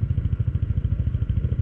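A motorcycle engine idles close by with a fast, even low-pitched pulsing throb throughout the short stretch.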